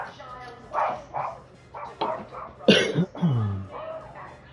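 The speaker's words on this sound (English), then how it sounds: "My dog is losing it on some children outside." A dog barking at children outside, loud close barks and yips in an uneven run over a little over four seconds, with a whimpering, vocal edge.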